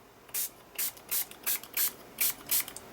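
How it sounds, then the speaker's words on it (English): A spray bottle spritzes water onto an art journal page with green and pistachio distress inks, about seven short, crisp hissing bursts in a loose, even rhythm, close and clear with quiet gaps and no talk. "a wee spritz"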